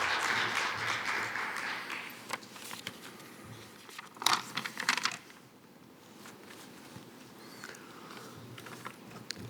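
Audience applause at the opening ceremony of the 2020 Northern Forum, a moderately loud patter of clapping that swells early, peaks briefly around the middle, then thins to scattered claps.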